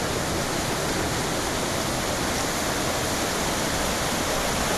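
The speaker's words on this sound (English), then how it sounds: "a hot pot that's spills into the river." Hot spring water rushes and spills steadily into a river, a constant broad hiss of flowing water like a small cascade, close and unbroken throughout.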